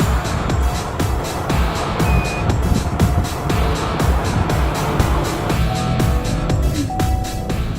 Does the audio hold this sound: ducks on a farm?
no